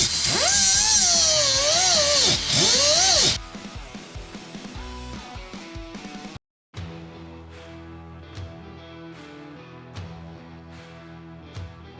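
A handheld power tool cuts metal on a truck lift kit with a loud, high-pitched whine that rises and falls under load. It stops briefly, then light metallic taps and clinks follow, with no speech.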